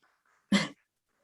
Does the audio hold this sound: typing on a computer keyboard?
no